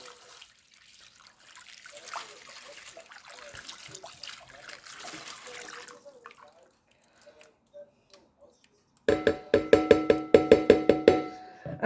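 Stock poured over a stuffed beef heart in a dish, beginning as a soft faint trickle of liquid and then a series of louder, rhythmic splashy pours near the end.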